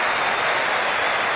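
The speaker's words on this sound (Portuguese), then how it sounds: "Muitos aplausos da torcida na saída dos jogadores pro vestiário" Stadium crowd applause in the PES 2007 football video game on PS2 as players leave for the dressing room at half-time, a loud, dense and continuous wash of clapping with no talk.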